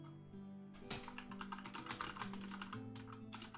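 Fast, steady typing on a computer keyboard, close and fairly loud, with a dense run of key clicks and no voices.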